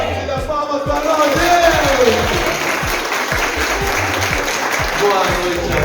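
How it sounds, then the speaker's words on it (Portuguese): An audience at an education lecture in Telêmaco Borba applauds, a dense, loud, sustained clatter of many hands clapping at once, with a voice speaking over the applause. "palmas para nós!"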